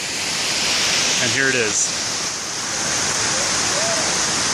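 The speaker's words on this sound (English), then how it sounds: "That is Horsetail Falls" Horsetail Falls above Alpine, Utah, in Dry Canyon, roars as a steady, loud, broadband rush of falling water that fills the whole clip, with a brief spoken remark partway through.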